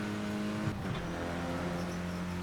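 A front-wheel-drive car's engine in Assetto Corsa drones steadily with a sustained tonal hum, briefly shifting pitch as it changes gear partway through, then settling again.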